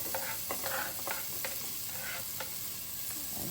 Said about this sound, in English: I'm going to saute some onions and a tablespoon of oil.